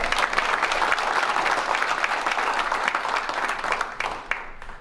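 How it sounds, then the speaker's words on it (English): Banquet audience applause, a full steady burst of many people clapping in a room that stays strong and then gradually thins out near the end. "Let's give them a big round of applause."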